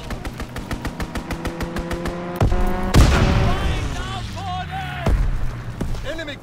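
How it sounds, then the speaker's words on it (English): Aircraft strafing gunfire in Call of Duty: WWII, a rapid string of regular shots followed by heavy booming impacts and a roaring rumble, loud and close, with game voices over part of it. "Strafing the target."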